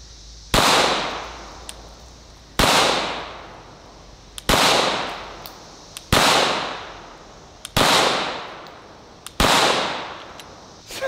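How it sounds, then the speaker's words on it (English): Six sharp, loud rifle shots ring out at evenly spaced intervals, each followed by a fading echo, as rounds are fired at a watermelon on a sawhorse and ricochet off steel. "I got four or five rounds in it, bouncing them off the steel."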